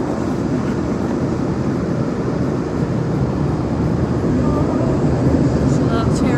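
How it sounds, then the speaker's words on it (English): Steady broadband roar of an airplane cabin in flight between Savannah and Miami, a constant dense rumble with no breaks and a voice talking over it. "So we're on a plane headed to Miami from Savannah."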